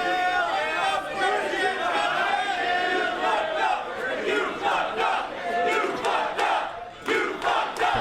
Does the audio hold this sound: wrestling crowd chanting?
yes